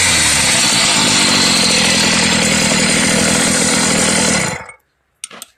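The G4 AF80 engine on a motorized bike runs close by with a loud, buzzy two-stroke drone, then cuts off abruptly, leaving a brief clatter in the silence.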